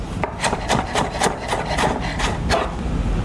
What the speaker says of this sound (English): And then make slices to make matchstick cuts.